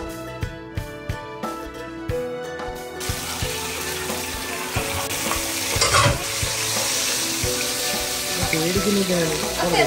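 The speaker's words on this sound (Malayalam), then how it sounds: "ഇനിയിപ്പോ ചിക്കൻ മസാല പൊരിച്ച് പൊരിക്കും അല്ലേ?" Chicken masala being fried and stirred in a pan for a homestyle chicken mandi, steady sizzling with scraping stirs and clinks beginning after a few seconds of soft background music.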